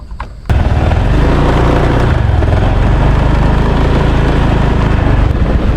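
A motorbike ridden around a free fishing campsite in Phitsanulok gives a steady, loud, close engine drone that starts abruptly and runs continuously without talk.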